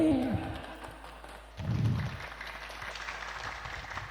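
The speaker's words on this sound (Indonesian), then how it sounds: "Tepuk tangannya kok ngene tok." Light, scattered applause from an audience at an Islamic sermon in Indonesia, a thin patter of claps that swells briefly and then continues at a modest level.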